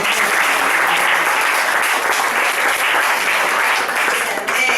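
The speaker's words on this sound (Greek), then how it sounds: "Ένα χειροκρότημα για την Κατερίνα." Steady, dense audience applause for Katerina at an open discussion event in Thessaloniki, loud and continuous throughout without any speech.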